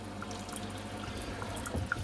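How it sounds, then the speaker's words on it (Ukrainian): Water running from a shower in a small country house, fed by an instant water heater, a faint steady hiss and patter with a few soft drips and splashes toward the end. "Побігла водичка."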